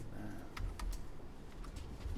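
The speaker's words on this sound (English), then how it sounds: "And then we're just typing away." Soft calculator key clicks tapped in short bursts against a steady background hum, fairly close and quiet, with no one speaking.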